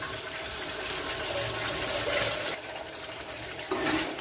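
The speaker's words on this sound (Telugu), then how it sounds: "ఈ రసం అంతా పోసేద్దాము" Tamarind juice pours into a pot of stuffed brinjal curry in a steady, gushing splash that lasts several seconds, then shifts briefly near the end.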